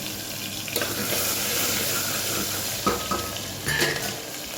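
Mustard seeds, cumin and tomato sizzle steadily in a little hot oil in a home kitchen pan, a continuous hissing fry with a few brief louder crackles and clatters.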